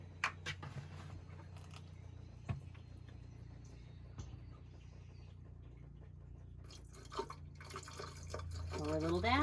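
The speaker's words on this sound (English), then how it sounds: "put a little bit of the extra antifreeze that you've saved into your traps, down into your drains" RV antifreeze is poured into a drain trap during winterization, heard as faint dribbling and a gurgling trickle that grows louder toward the end, with a low hum underneath and a few small clicks and knocks.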